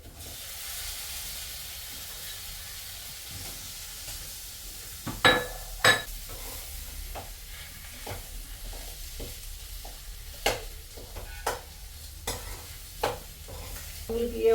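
Boiled jackfruit seeds sizzle quietly in a pan for poriyal, with a spoon stirring and scraping at irregular intervals, giving several sharp clinks over the steady soft frying hiss.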